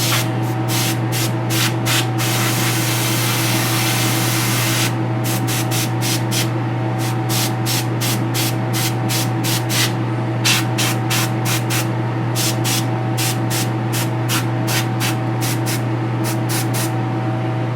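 Rhythmic bursts of aerosol spray apply a coat of black paint to the arm of a Prime1 Lobo statue under repair, one long continuous spray followed by many short, evenly spaced puffs over a steady background hum.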